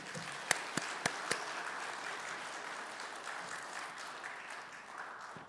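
A church congregation claps to welcome a pastor at a dawn sermon seminar, beginning with a few sharp distinct claps before settling into soft, steady, fairly distant applause that lasts throughout.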